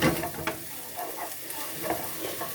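A hachis parmentier filling is stirred and mixed in a hot pan, giving soft scraping strokes over a low sizzle at close range, with no voices.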